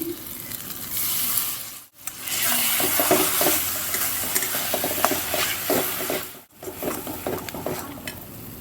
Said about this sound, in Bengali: দিয়ে মশলা কষে নেব 10 থেকে 20 মিনিট